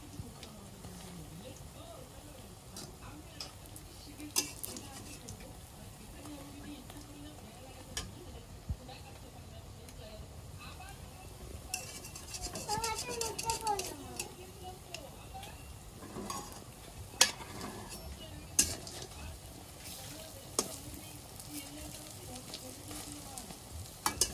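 Bora fritters frying in a pan in a village kitchen: continuous oily sizzle with occasional sharp clinks and scrapes as pieces are turned over, and faint talk at times.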